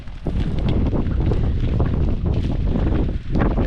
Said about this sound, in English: I'm hoping this ain't picking the wind up